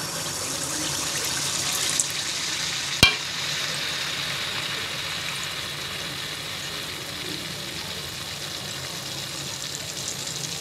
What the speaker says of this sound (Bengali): এবার ডুবন্ত তেলে তেলের পিঠা ভেজে নেব।